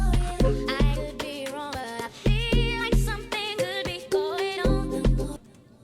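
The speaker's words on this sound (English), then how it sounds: "So I added in my first set of log drums," Amapiano log drums thump out deep, pitched booming hits in a syncopated pattern, loud and close, each hit decaying into a low tail, with bright plucky synth notes riding over them.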